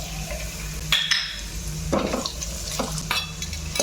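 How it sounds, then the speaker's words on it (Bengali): Cashews frying in hot ghee in a pan, a close sizzle broken by repeated spatula scrapes and stirring clatters against the metal, with no talking. "আমি একটু কাজু দিয়ে দিলাম কাজুটা একটু ভাজা ভাজা হয়ে যাবে"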